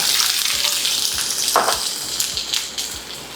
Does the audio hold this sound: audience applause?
no